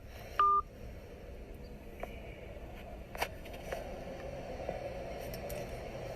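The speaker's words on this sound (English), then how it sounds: "He just hung up the phone." A telephone line gives a short electronic tone burst right after a call is hung up, then a faint background hiss with a few soft clicks.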